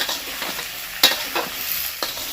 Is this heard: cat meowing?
no